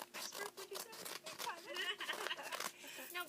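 Scissors cut through fabric to free two printed flowers for a small art quilt. Quick repeated snips and soft rustling sit close to the mic, with someone talking over much of it.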